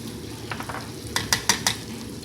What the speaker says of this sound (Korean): 자, 이 정도만 볶으시면 이제 화이트루인데